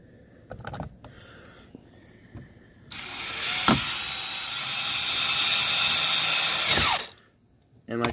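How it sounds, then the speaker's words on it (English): A cordless drill drives screws back into car door trim, whirring in a steady, loud run for about four seconds and then stopping abruptly, with a few clicks and handling noises before it starts. "We should go right ahead and drill that right back in there."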